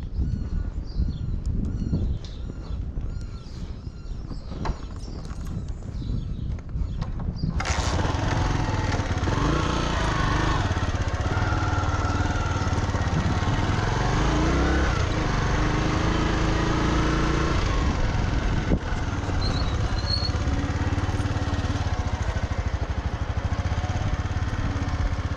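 A motorcycle engine runs steadily on a ranch in open country, a loud continuous drone that starts abruptly after a stretch of quieter outdoor sound with birds and then holds at an even level.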